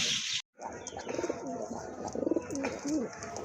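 Pigeons coo in a collection of local and imported breeds, with several soft rhythmic coos close by over a background of chirps and rustling, after a brief silent gap near the start.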